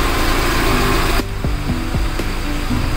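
A car's carburetted petrol engine idles at about 900 RPM during ignition and carburettor tuning, giving a steady mechanical hum with a brief drop in tone partway and a few soft knocks.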